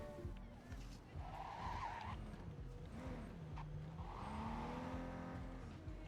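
Car tires skidding and sliding on a slippery road in Cyberpunk 2077, a steady squealing slide with engine hum mixed with game sounds beneath faint background chatter.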